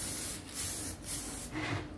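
Black aerosol spray paint hissing from a can in short bursts while a hydraulic jack is repainted, steady and close with brief pauses between sprays.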